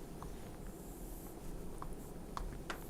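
During an electromagnetism lecture, a marker or chalk writes on a board, giving faint scratchy strokes and light taps over a steady room hum, with no one speaking.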